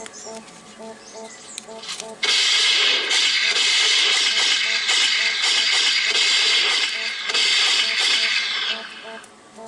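A short electronic phone notification beeps several times in quick repetition, then gives way to loud, close crinkling of origami paper being folded.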